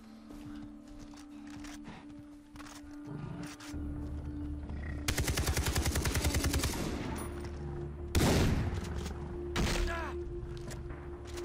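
Rapid bursts of sniper rifle gunfire crack out amid a Far Cry 3 game soundscape with animal roars as a wildebeest is shot, one loud sharp blast standing out near the end.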